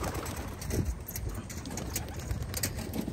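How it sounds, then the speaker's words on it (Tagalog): A steady rush of noise with soft fluttering and faint cooing throughout, like a flock of pigeons taking off and flying away outdoors. "Ayun mga ibon, dire-diretso sila, ganda ng release."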